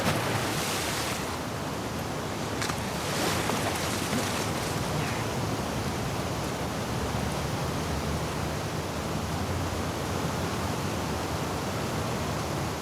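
Waves wash through the water section of The Last of Us Part II, where Ellie swims toward the aquarium in Seattle. A constant, loud roar of surf and rushing water fills the whole stretch, with a few splashy bursts early on and no voices.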